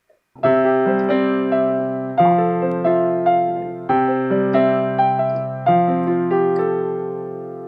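A simple piano riff of sustained chords, struck in a steady repeating pattern, each one ringing and slowly decaying, played alone and close.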